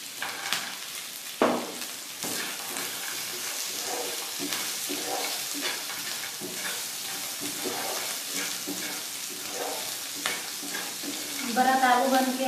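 Potatoes and peanuts fry with a steady sizzle in a pan for a spicy fasting-style potato dish, stirred with repeated scraping strokes and a brighter sizzling burst near the end.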